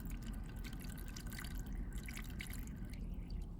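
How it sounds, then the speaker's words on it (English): Water pours quietly over a sponge in a glass grinder, a faint, steady trickle and dripping with no voices. "I'm going to pour it over the sponge so it also gets hydrated"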